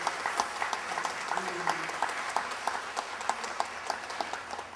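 Studio audience at a live radio theater broadcast applauding, a fairly faint, spread-out patter of many hands clapping in quick, irregular bursts throughout.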